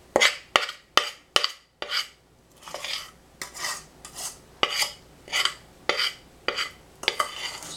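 A metal spoon scraping and stirring chocolate brownie cake mix in a bowl, a run of sharp rhythmic scrapes and rasps, close and clear, repeating at irregular intervals with short pauses between strokes.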